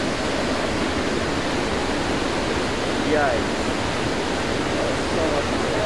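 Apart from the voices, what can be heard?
roaring river water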